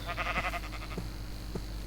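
A Minecraft sheep bleating in short, wavering calls, a couple of quick bleats followed by fainter repeats, over a steady background hum.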